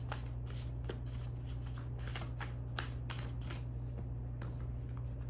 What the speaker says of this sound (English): So let's go ahead and get one more card on that.